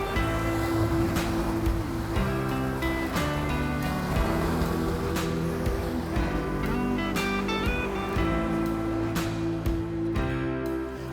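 Ocean waves wash up on a beach and erase marks in the sand, a continuous rushing surge with bright clattering streaks over a steady low drone, loud and with no voices.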